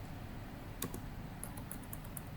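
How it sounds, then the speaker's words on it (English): Keystrokes on a computer keyboard during architectural floor-plan drafting: a few faint, sparse clicks spread over a couple of seconds, alone against a steady low background hum. "On your keyboard, you can just press shift and your 2 and you will get add."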